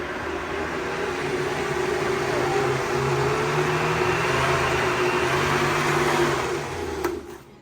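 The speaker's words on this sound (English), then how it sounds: "Sometimes I have to stop the blender because," A kitchen blender whirs steadily as it mixes basil for pasta pesto, a loud continuous motor drone that runs unbroken for several seconds and then winds down near the end.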